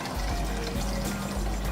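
Water pours steadily into a glass for a dancing raisins experiment, a close, continuous gurgling splash with no voices.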